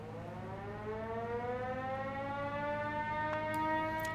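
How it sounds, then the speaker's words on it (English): A police curfew siren in the video game Schedule I wails on its own, a steady rising tone with stacked harmonics that sounds loud and sustained for the full length. "This sound announces that the police curfew is starting, so from this sound on, you shouldn't be outside."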